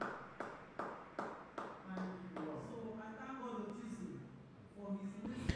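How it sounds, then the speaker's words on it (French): A church congregation clapping for Jesus, a series of sharp, evenly spaced handclaps at first, then giving way to a voice speaking over softer crowd noise. "Acclamez pour Jésus, acclamez pour Jésus, acclamez pour Jésus."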